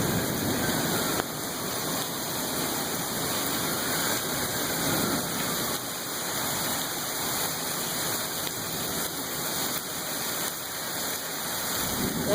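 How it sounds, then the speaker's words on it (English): Steady rain falling during a nighttime thunderstorm in Sheridan, Wyoming, a continuous even hiss of moderate loudness with no thunder cracks standing out. "I'm actually feeling the rain"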